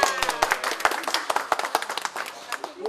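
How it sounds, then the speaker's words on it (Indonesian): Brief bursts of audience clapping at a gathering held to choose a hospital director, sharp irregular claps close by, with people talking over them throughout. "Tepuk tangan untuk Bapak."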